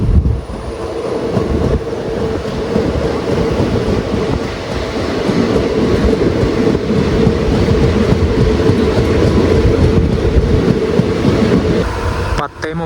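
A passenger train rolls steadily into Nileshwaram railway station in Kerala, a continuous loud rumble of wheels and carriages that holds for most of the stretch before cutting off abruptly at the end.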